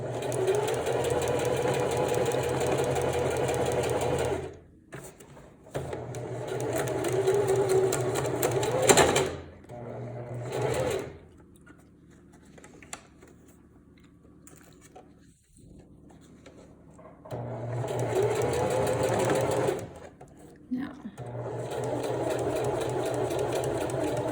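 Sewing machine stitching swim elastic, running in long steady bursts with brief pauses between runs; the motor hum and rapid needle chatter are close and fairly loud, with no talking.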